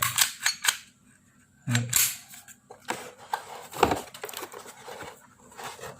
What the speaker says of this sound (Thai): ยิงปืน